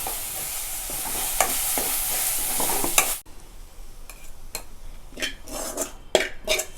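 Vegetables with grated coconut sizzle and sauté in a hot pan while a spoon stirs and scrapes them, with clinks of metal against the pan, close and steady.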